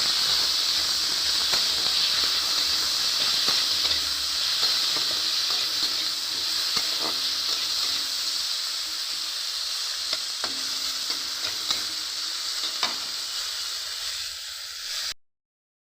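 Tomatoes with salt fry in a pan, a steady loud sizzle and hiss running throughout, with occasional spatula scrapes as they are stirred, then cut off abruptly at the end.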